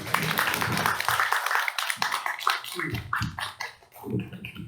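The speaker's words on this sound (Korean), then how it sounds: "큰 박수로 환영합니다" A lecture audience welcomes a lecturer at a Buddhist temple talk with a dense burst of applause that thins out and fades near the end.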